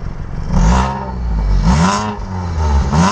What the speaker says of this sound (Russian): Контроль выхлопа автомобиля.